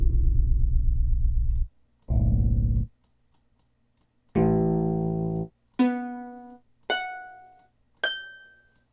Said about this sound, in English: That's a gorgeous harp right there.